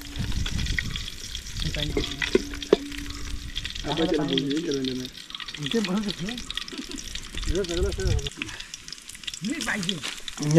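Garlic sizzles and crackles in hot oil in a pan for a raw jackfruit curry cooked outdoors, a steady loud frying hiss with stirring scrapes while people talk over it.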